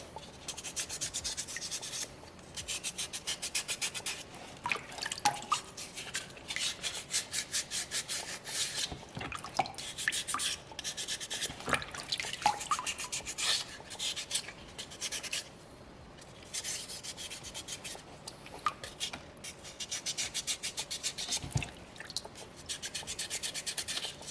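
A small soapstone orca carving is rinsed and rubbed by hand, giving a continuous close, soft scratchy rubbing with light watery touches and no voices.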